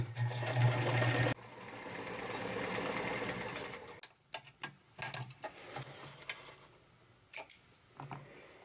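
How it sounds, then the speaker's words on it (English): A sewing machine stitches a sweater neck facing, running in a loud steady hum for several seconds, then pausing and restarting in short uneven bursts with clicks and handling noises between. "Now we can go back to sewing. Stretching it tight."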